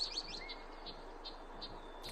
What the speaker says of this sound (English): play sounds of birds recently spotted in Jackson, New Hampshire.